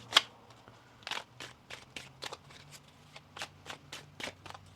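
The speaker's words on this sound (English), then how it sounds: "One more shuffle." Tarot cards being shuffled in a series of quick riffling bursts, close by, with brief pauses between them and no talking.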